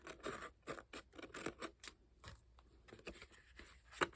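Quiet, quick snips of scissors cutting through craft paper, a steady run of close crisp cuts with a short pause near the end.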